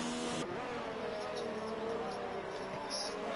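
A Red Bull Formula 1 car in the racing game F1 2019 at the Australian Grand Prix, a steady high-pitched engine whine held near and loud, with a tone shift at the start and commentary running over it.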